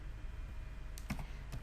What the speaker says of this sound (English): Again I am typing this function sum.